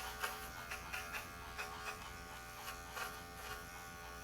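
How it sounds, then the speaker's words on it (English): Wahl Motion lithium-ion cordless clipper trimming a Shih Tzu's paw pads, a steady close electric buzz with slight rhythmic pulsing as the blades move across the pads, no talking. "You can see how easy it is to just kind of rotate this clipper around and go through all of her pads."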